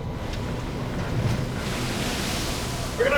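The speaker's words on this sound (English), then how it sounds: "Now we have waves spilling over the bow" Heavy seas washing over a cargo ship's bow during days of pounding weather, a broad roaring surge of water and wind building steadily with a sharper splash at the end.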